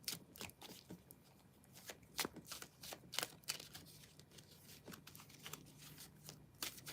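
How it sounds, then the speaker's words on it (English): Tarot cards are shuffled by hand, a string of quick papery riffles and soft slaps in irregular bursts, close and fairly quiet, with no talking. "I'm going to do a final shuffle and see if they have anything else to say."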